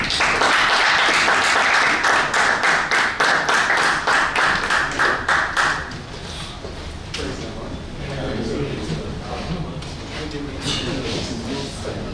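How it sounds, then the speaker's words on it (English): A crowd claps in rhythmic unison for several seconds, then the applause fades out and a voice begins speaking through a microphone. "Please, a round of applause for him again."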